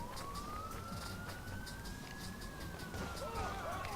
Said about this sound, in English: there's a police car behind me